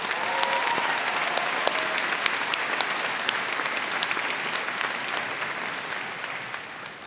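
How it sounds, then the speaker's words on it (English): A large arena audience at a university graduation ceremony applauds the mothers with dense, steady clapping for several seconds, slowly tapering near the end. "please help me in giving them a round of applause"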